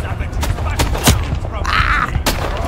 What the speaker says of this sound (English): Oh god, he's got cannons!